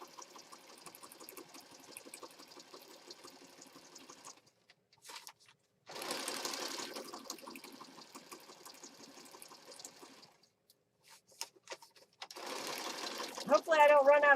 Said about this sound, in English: A lot of sewing.